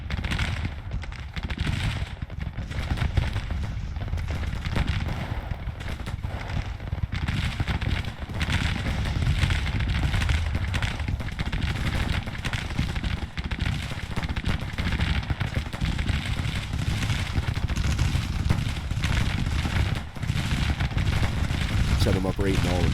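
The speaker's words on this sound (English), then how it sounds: "Firing into their flank out here." Continuous roar of musket volleys and artillery fire from a Civil War battle at Chancellorsville in Grand Tactician: The Civil War, a dense, steady crackling din with thudding low booms throughout.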